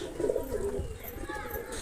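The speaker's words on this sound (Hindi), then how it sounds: "ये मेरे कबूतर" Pigeons coo softly nearby, low throaty burbling calls over quiet background noise.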